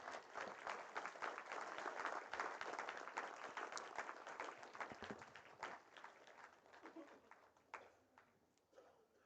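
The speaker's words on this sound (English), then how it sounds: "Can we all together welcome Shri Madhu on stage with a huge round of applause?" Faint, steady applause from a conference audience welcoming a guest on stage at a green hydrogen conference's opening session, a dense patter of many hands that thins out near the end.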